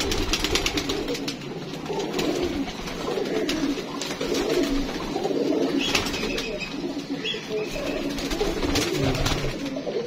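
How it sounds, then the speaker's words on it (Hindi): Pigeons coo softly and repeatedly close by, a low throaty burbling that carries on throughout. "ये कबूतरी"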